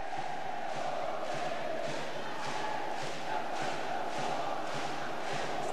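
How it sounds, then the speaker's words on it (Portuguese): Osasco fans at a women's volleyball Superliga semifinal cheer and chant in a steady, rhythmic roar that swells in regular pulses, sounding somewhat distant. "Torcida do Osasco, como sempre, muito calorosa. Muito quente, participativa."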